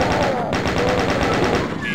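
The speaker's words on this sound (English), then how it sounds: "Just imagine if it really was 3D, like this chain gun." Chain gun fires in old-school Doom played in VR, a rapid steady stream of punchy shots at even rhythm, loud and continuous under a dense game soundscape.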